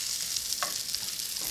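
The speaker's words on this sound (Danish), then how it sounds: "Jeg skal lige stege løgene bløde i noget smør." Onions fry in butter in a pan for a burger, giving a steady soft sizzle with a brief stir or clink partway through and no talking.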